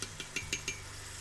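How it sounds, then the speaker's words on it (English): A spoon scrapes and clinks against an Instant Pot while ground meat browns with minced garlic: four or five soft, evenly spaced taps and scrapes close by, fairly faint, then quiet. "Keep stirring this around until we get it browned up good."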